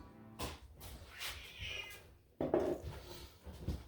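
A cat meows a few times in a kitchen, short faint calls near the mic, with some clattering of cupboards or dishes around them.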